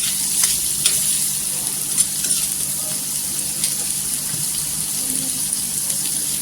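Food frying in oil until golden gives off a constant hissing sizzle with scattered crackles and light stirring, fairly close and steady from start to finish.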